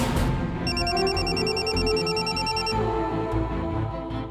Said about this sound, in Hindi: तभी संतोषी का फोन आया हमको।